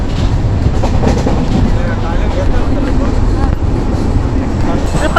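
A packed Mumbai local train runs along the line with a steady, loud rumble and a rhythmic clatter of wheels, while passengers' voices murmur faintly underneath.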